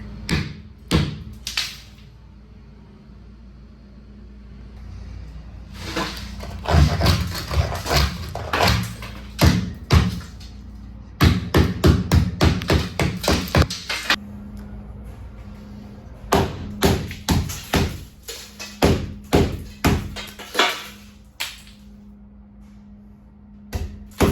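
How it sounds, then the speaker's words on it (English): A hammer taps thick ice in an iced-up walk-in cooler, sharp metallic taps and knocks in quick bursts, pausing between runs, close and crisp in an otherwise quiet space. "I did not go crazy with the hammer"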